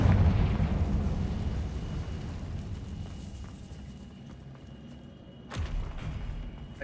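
A blasting spell bursts in the Hogwarts Legacy game, heard as a heavy rumbling explosion that decays over several seconds, followed by a sharper second burst near the end.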